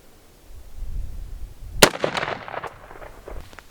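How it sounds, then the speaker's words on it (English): One sharp, loud crack from a SIG AR-10 firing .308 into dirt outdoors, followed by a brief echoing tail and scattered debris patter, with low handling noise before it. "Next up we have 308, and that's going to be out of our SIG AR-10"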